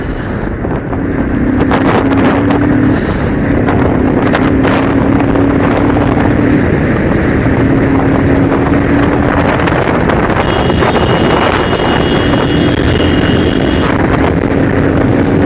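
A modified Bajaj Pulsar 220 motorcycle is ridden at speed, with a loud, steady engine drone buried in heavy wind rush that continues throughout.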